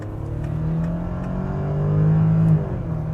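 A 2021 VW Touareg R plug-in hybrid accelerating hard in sport mode with combined petrol and electric power, its engine a loud, steady drone that climbs in pitch and swells toward the end.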